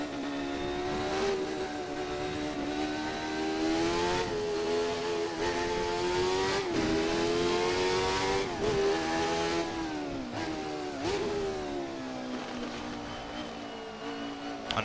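A Jordan 191 Formula One car in a racing sim at Spa, its engine holding a loud, steady high-pitched whine, rising and dipping slightly through gear changes and corners over nearly fifteen seconds, with no talking.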